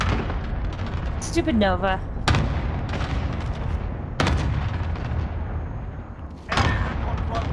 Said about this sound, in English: cluster strike inbound